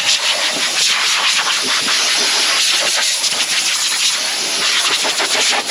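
Compressed air blasts dust out of a tractor's grills, a loud, continuous, close hiss with fluctuating bursts throughout.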